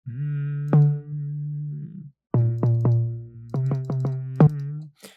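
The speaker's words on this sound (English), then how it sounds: "I'm gonna pitch it up to where I can actually hear the tone of the 808" Pitched-up 808 bass notes play as a sequence of sustained tones with sharp attacks, one long note then a quicker run of repeated hits separated by a short gap, clean and alone.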